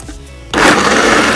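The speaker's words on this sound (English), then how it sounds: "We cover back the blender, and we press on." A quiet hum gives way to a blender motor roaring to life halfway through, a loud steady whir that fills the rest of the clip.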